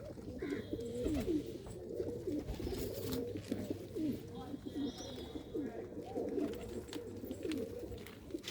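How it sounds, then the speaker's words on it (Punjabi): Pigeons coo steadily inside a net enclosure beside their loft, a dense overlapping murmur of low throaty calls from several birds close by, with a faint voice in the background. "ਕੁਝ ਕੁ ਕਬੂਤਰ ਬਾਹਰ ਆਏ ਨੇ ਜਾਲੇ ਦੇ ਵਿੱਚ"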